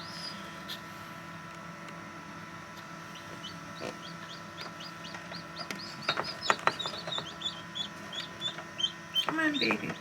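Newly hatching chicks peep inside a Nurture Right 360 incubator, with thin, high chirps scattered through the clip. They begin sparse and grow busier and louder toward the end, over a steady low hum.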